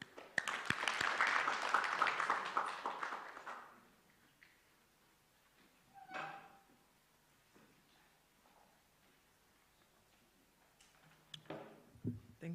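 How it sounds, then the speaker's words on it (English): Audience applause at an academic conference, a dense burst of clapping in the opening seconds that fades out, followed by quieter room noise and a brief voice. "A hand of applause for mwalimu."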